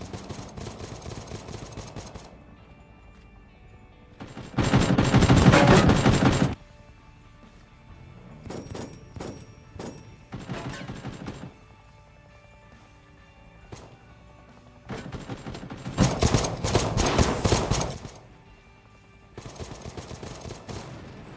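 Bursts of rapid video game gunfire, two loud sustained volleys separated by quieter stretches of scattered shots and background rumble.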